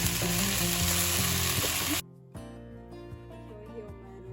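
Rice frying in a pot for Ethiopian mandi rice with lamb, sizzling steadily and loud at first, then quieter after a sudden drop, with a few soft stirring knocks continuing close by.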